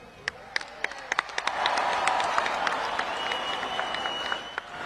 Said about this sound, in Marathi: सलमान भाईचं स्वागत करायचं जोरात टाळ्या वाजवून।